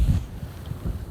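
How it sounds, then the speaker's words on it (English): Strong wind on a frozen lake buffets the microphone in low, rumbling gusts during ice fishing, with no other sounds. "it's really windy"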